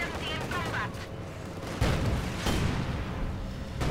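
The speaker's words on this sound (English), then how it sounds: "Our headquarters is taking enemy fire" Enemy gunfire striking a headquarters in Company of Heroes 2, with dense battlefield shots and booming impacts in rapid succession, loud and close over constant combat noise, with a voice briefly audible at the start.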